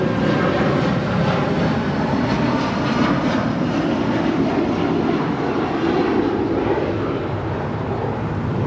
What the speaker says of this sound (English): 1076 departing to Newark on a 757-200